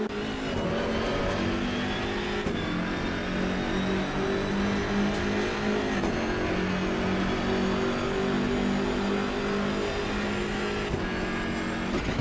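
A BMW M6 GT3 race car in Assetto Corsa Competizione drives hard with a loud, steady engine roar. The revs climb and drop briefly as it shifts through gears, with no talking.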